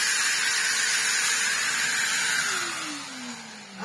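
A refurbished Henry HVR160 vacuum cleaner with a new Qualtex hose cuff roars at close range with a loud, steady airflow whoosh, then a tone glides downward near the end.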